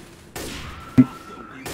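Gunfire in the zombie shooter game Left 4 Dead 2, a few sharp shots and bursts spread over under two seconds, with a strong thud-like shot near the middle.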